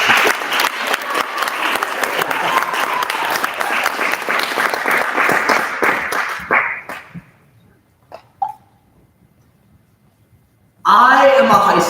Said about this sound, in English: Let's just clap as he comes out.